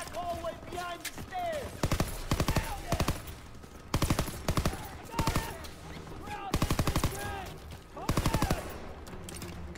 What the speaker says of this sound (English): I'm just trying to shoot people at the moment